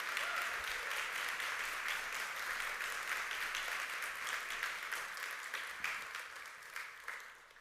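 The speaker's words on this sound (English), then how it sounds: "I think we should give a big round of applause to the sponsors" Conference audience at a React Native event clapping for the sponsors and organizing team, a sustained round of applause heard from a distance and fading slightly toward the end.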